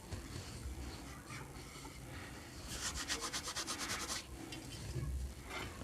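Fenugreek roti ingredients with cumin and ajwain are mixed by hand, making quiet, close rubbing and scraping with a quicker rhythmic burst midway.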